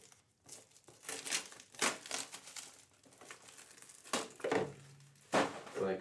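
Plastic wrapping on a Strixhaven set booster box is cut and pulled open with scissors, giving irregular crinkling and tearing rustles in uneven bursts, close up.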